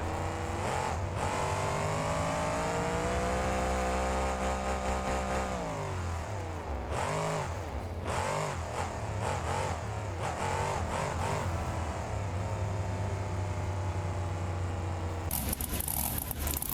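A Chevrolet monster truck called the Devastator roars in a BeamNG Drive Monster Jam freestyle on an Atlanta course, its engine droning loud and steady, then swelling through a run of revs before settling back into a sustained growl.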